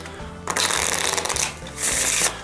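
A deck of Madison Rounders playing cards is shuffled up close, two quick riffling bursts of crisp card flutter separated by a short pause.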